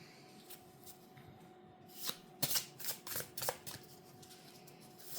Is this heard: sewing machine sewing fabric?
no